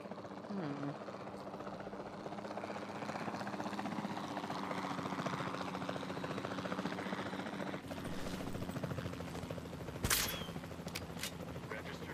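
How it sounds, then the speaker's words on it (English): A capture team helicopter in a dinosaur video game thrums steadily with a constant rotor drone throughout, followed by a couple of sharp bursts near the end, with distant game speech in the mix. "Then the sensible thing is to take a capture team helicopter."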